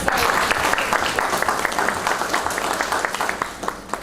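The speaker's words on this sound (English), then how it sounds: "Let's give them a round of applause." A room at a working group meeting breaks into steady applause, dense clapping that starts loud and gradually thins toward the end.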